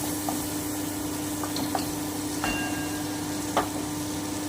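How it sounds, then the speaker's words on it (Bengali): Pointed gourd (potol) fries in a pan with a steady, moderate hiss and sizzle over a low hum, broken by a few faint clicks and pops. "আমি আরও পাঁচ মিনিট থেকে ভেজে নিচ্ছি"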